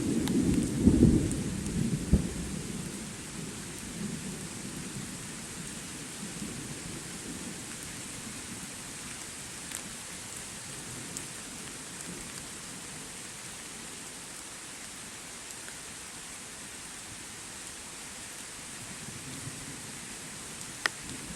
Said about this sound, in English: Well, I'm not the only person out tonight in the thunderstorm.